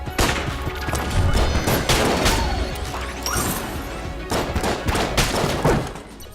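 Dense, chaotic bursts of rapid M16 gunfire in Enter the Gungeon on Nintendo Switch, overlapping sharp shots and impacts continuing steadily throughout at close, loud level.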